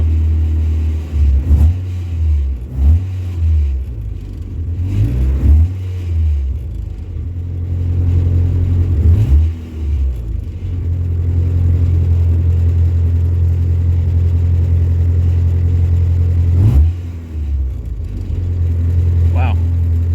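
A 1994 Mazda Miata engine runs after a crank-no-start repair, a steady close idle with several revs swelling and falling, while someone talks over it.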